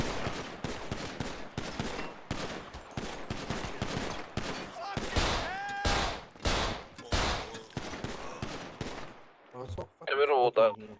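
Heavy gunfire in the video game GTA 5, rapid machine-gun-like bursts and loud close shots crowding most of the stretch, with game noise and a short electronic sound at the end.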